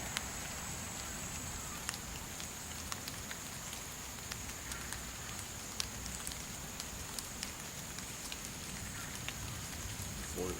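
Light rain patters steadily outdoors, with scattered louder drops ticking nearby against a soft constant hiss.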